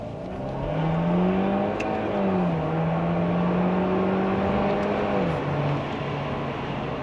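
A Cadillac ATS 2.0T accelerates at full throttle with traction control off, its engine droning steadily as the pitch climbs, dips briefly at a shift, then climbs again, heard from inside the car with no talk.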